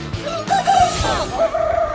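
Several native Korean heritage-breed chickens crow and cluck close by at a farm in Paju, Gyeonggi Province, with overlapping calls rising and falling across a busy farmyard background.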